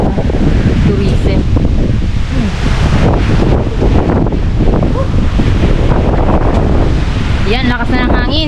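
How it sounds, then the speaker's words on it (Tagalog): Strong wind buffets the microphone in a steady roar with surf-like rushing on a canopy walk in El Nido, Palawan, and voices talk faintly underneath near the end. "lakas na ng hangin."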